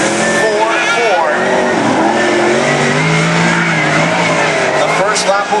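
Number 13 race car at Central Point during Cottage Grove national qualifying screams past at full throttle, engine pitch rising and falling, with an announcer talking over it throughout.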